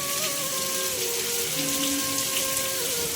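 Rain patters steadily, with a tonal hum running underneath and a few harmonic whines drifting in and out; no one speaks.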